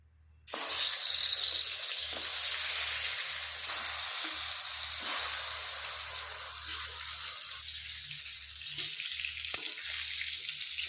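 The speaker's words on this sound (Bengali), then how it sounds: "সাদা তেল দিয়ে দিলাম বেগুন ভাজাতে" Eggplant slices dropped into hot white oil burst into loud sizzling that continues steadily close by, a dense crackling hiss that eases slightly over time.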